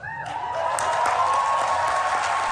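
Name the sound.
applause at UN treaty agreement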